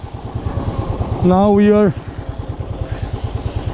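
A motorcycle on a road ride from Goa to Gokarna on a rainy day gives a steady, pulsing engine thrum, while someone speaks briefly over it partway through.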